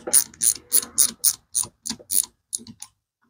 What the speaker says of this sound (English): Need a bigger ratchet, I got to go a little further.